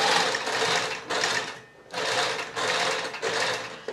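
Sewing machine stitching the waist of a box pleat skirt, running in loud close bursts of rapid needle chatter with short pauses between, no talking.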